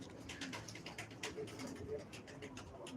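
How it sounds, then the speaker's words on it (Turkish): Pigeons or doves at a bird market stall coo repeatedly at close range, with soft murmuring and faint chirps over a busy background of low voices. "Bakın arkadaşlar kuşlara bakın."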